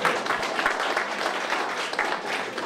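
Applause from the audience at a 2017 Macedonian election speech event, heard as a steady, dense wash of many hands clapping that continues without a break.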